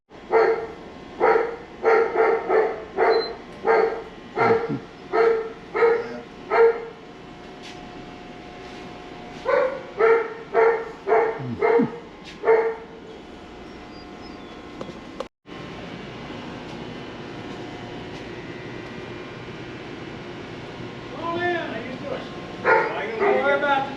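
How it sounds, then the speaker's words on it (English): Dogs at a radio station site bark in rapid bursts, loud and close, two long runs of repeated barks with pauses, followed by quieter background noise and a few higher yips near the end. "Don't worry about the dogs."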